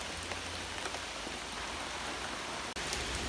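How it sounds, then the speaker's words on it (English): Steady rain falls outdoors on a Labor Day around Cook Forest, a dense, even hiss of drops on surfaces that continues without a break, with no voices. "Nice steady rain."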